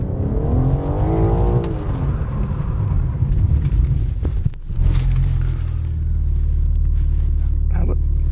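A 2021 BMW M4 Competition drifts with a loud, close engine roar, its pitch climbing and falling as it revs. A brief dip in the middle is followed by a sustained heavy rumble.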